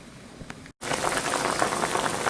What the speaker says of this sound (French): Alors, j'ai mis mes légumes à bouillir